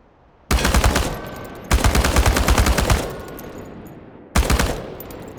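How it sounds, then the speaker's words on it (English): An automatic gun fires at cans in the game Chernobylite, three loud bursts of rapid fire, the first two long and close together, then a short pause before a final burst. "The biggest challenge is compensating for recoil in automatic firing mode."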